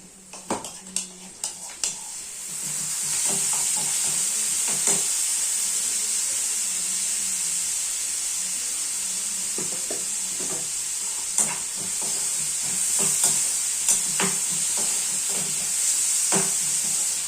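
Soaked fenugreek seeds hit hot oil in a kitchen pan with a few sharp clinks of utensils, then settle into a steady, hissing sizzle that carries on under occasional spoon taps and scrapes.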